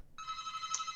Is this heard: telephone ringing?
yes